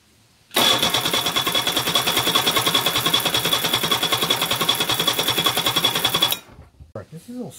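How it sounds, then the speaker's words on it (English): An engine running on a newly fitted electronic ignition and new fuel pump, catching abruptly and holding a fast, even, rattling idle for about six seconds before cutting off, close and loud. "it is time to see if it will run on the new ignition system with the new fuel pump"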